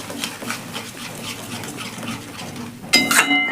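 Eggplant and sour yogurt get stirred in a pan, with a spoon scraping and clinking in a soft, repeated rhythm and a light sizzle underneath, then a brighter metallic clatter near the end, with no talking.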